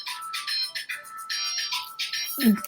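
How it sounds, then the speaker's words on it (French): A telephone rings with a repeated electronic ringtone, a steady run of short chirping pulses filling the clip, with a brief rustle or knock near the end. "il y a un téléphone qui sonne"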